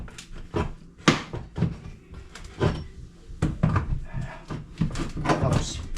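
A homemade wooden door is worked open and shut, giving a run of knocking thuds, bumps and scraping creaks at uneven intervals, close to the microphone.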